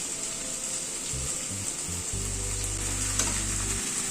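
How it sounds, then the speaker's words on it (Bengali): Rice tipped into a pan of frying spices with capsicum, a steady sizzle running throughout, with a few soft low thumps and stirring bumps partway through. "এবার ভাতটা অ্যাড করে দিচ্ছি"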